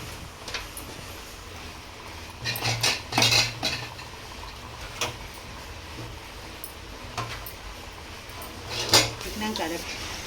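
A metal spoon scrapes and clatters against a pan while chicken pieces are mixed with masala for Andhra-style green chilli chicken, with intermittent clinks and stirring scrapes over a steady background hiss, and a voice talking in the background.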